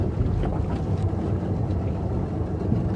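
Motorboat under steady manoeuvring throttle while turning toward a jetty, a continuous low engine and water rumble with wind buffeting the microphone throughout.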